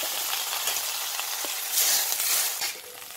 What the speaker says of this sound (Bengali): এবারে আমি এর মধ্যে অল্প পরিমাণ জল ঢেলে দেবো